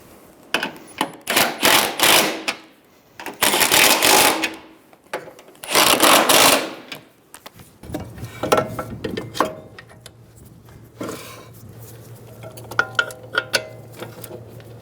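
Socket ratchet clicking in several bursts while nuts are snugged down on a front strut assembly of a 2007-2011 Toyota Camry, followed by lighter metallic taps and a low steady hum.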